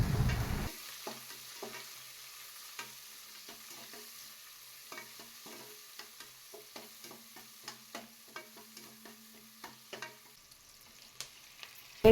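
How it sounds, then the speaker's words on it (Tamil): Sliced onions with two green chillies sautéing in oil for mushroom biryani: a quiet, soft sizzle beneath a run of light spatula scrapes and taps, with no voices. "பல்லேரி வெங்காயம் கூட 2 பச்சை மிளகா அதையும் சேர்த்து நம்ம போட்டு நல்லா எண்ணெயில் நல்லா வதக்கி விட்டுறலாம்"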